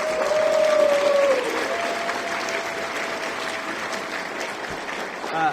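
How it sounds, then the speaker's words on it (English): An audience at a PaizoCon 2016 banquet applauds steadily, a dense wash of clapping from a crowd that holds strong and then fades slightly toward the end. "Can we get a round of applause for these folks?"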